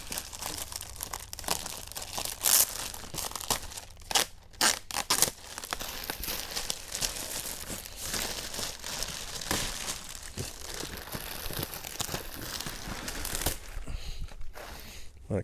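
Plastic wrap is pulled and torn off a shower chair box, making a dense, continuous crinkling and crumpling that stays close and loud, with sharper tearing bursts.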